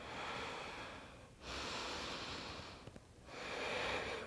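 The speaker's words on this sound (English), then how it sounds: "One more big breath in and out" Deep yoga breaths drawn in and pushed out, close and steady, with broad airy rushes separated by two short pauses and no talk.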